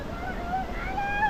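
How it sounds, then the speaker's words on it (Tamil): Water rushes along a trail leading to the Bomburu Ella waterfall, a steady broad wash of sound with a few thin, whistling tones drifting above it. "தண்ணி வந்து போகிற சத்தம் கேட்குது"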